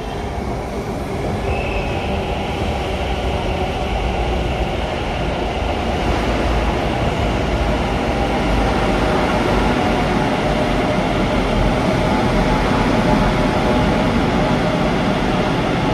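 A train or metro in Kolkata rumbles past close by in one loud, continuous roar that holds for the whole stretch, with a brief wheel squeal near the start.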